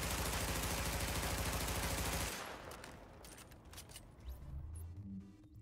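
Hipfire from an MP5 in The Division empties the magazine in a rapid, continuous automatic burst for about two seconds, then cuts off into quieter game ambience and small clicks.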